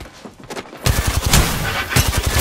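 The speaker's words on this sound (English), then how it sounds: "Shooting. Firing." Rapid automatic gunfire from Apex Legends bursts in after a quieter opening, with dense, loud volleys of shots filling the rest of the moment.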